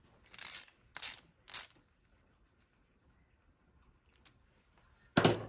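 Ratchet tightening the float bowl bolt on a bike carburetor, three quick close ratcheting bursts, a faint click, then one more sharp burst after a pause.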